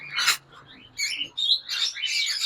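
An Ino breeder pair, lovebirds or cockatiels, gives a few short high chirps and tweets close by, in uneven bursts over a couple of seconds with no talk.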